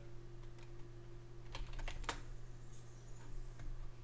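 Someone types a command on a computer keyboard, producing a faint scattering of light key clicks bunched in the middle, over a steady low electrical hum.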